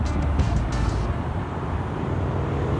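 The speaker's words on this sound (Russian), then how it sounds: "Байкеры какие-то куда-то поехали." Bikers' motorcycles driving away outdoors, a steady broad engine rumble that holds at a moderate distance and slowly thins without a sharp rev.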